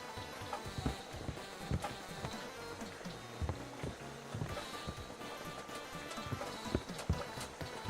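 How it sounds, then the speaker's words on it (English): Footsteps on hollow wood play as a video game sound effect, a steady run of knocking, clopping thuds at a walking pace that continues for several seconds at moderate level. "Footsteps on hollow wood."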